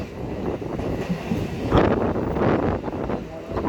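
A train on the Krishnanagar–Amghata line rumbles and rattles steadily along the tracks, with wind buffeting the microphone and no voices.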